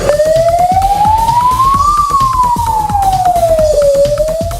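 A loud chemical-leak warning siren sweeps slowly up in pitch, then down, then starts climbing again, wailing continuously without pause.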